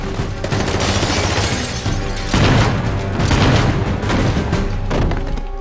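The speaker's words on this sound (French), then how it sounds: "ce gros gunfight en mode défense de zone, où James, M et Kincaid vont devoir s'en sor" Gunfire and explosions from the final gunfight in the James Bond film Skyfall, a dense, continuous barrage of loud booms, thuds and rapid shots with no pause throughout.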